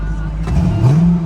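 A Rolls-Royce Ghost engine heard close as it starts and rises into a short rev with a climbing pitch near the end, with a person talking over it.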